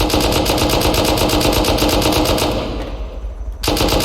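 An M2 machine gun in the video game Rust fires a loud, rapid, close stream of shots for over two seconds, stops briefly, then bursts out again.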